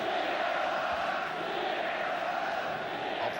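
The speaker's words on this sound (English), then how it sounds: "The crowd are trying very hard because they enjoyed a great first half." Football crowd at the 1975 FA Cup Final between West Ham United and Fulham, a steady distant roar of chanting and cheering filling the stadium at even volume.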